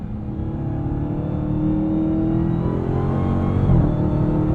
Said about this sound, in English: stay right in the sweet spot of that supercharger whine